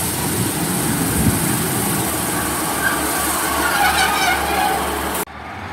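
Passenger train for Treherbert pulling into Cathays station, a loud continuous rumble with a rising metallic squeal before cutting off abruptly.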